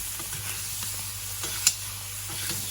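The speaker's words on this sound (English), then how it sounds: "foaming brown butter" Steaks basted with foaming brown butter and a crushed garlic clove in a tilted pan, a steady close sizzle and bubbling with one brief sharp clink, no voices.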